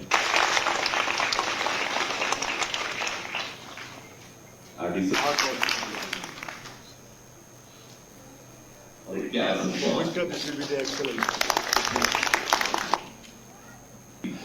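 An audience at an investor recognition ceremony in Jammu and Kashmir breaks into two bursts of applause, each lasting several seconds and separated by a quieter stretch. A speaker's voice is heard over and between them.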